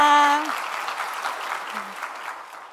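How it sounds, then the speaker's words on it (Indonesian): Audience applause at a corporate financial talk show for Telkomsel employees, a dense wash of clapping that starts loud and slowly thins, with a voice briefly heard at the start. "kita tepuk tangan dulu dong untuk yang sudah bergabung."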